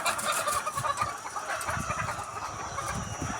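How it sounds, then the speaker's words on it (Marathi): Many white laying hens clucking together in a busy chorus inside a poultry shed, steady and fairly close, with overlapping low calls and a constant background hum. "दिसतात कोंबड्या, पांढऱ्या कोंबड्या अंड्यांच्या"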